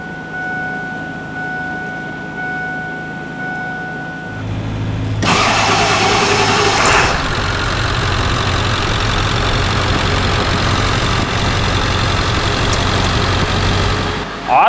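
A 1999–2007 Ford F-350 with the 7.3L Powerstroke diesel cranks after a fuel filter replacement, catches with a loud burst, then settles into a steady, close, rumbling idle that continues to the end.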